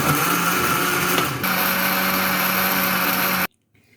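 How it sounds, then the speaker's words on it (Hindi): A blender grinds beef korma gravy, whirring loudly and steadily, its motor pitch shifting slightly partway through, then cuts off abruptly into near silence. "अब हम इसके शोरबे को 1 मिनट तक ग्राइंड करेंगे।"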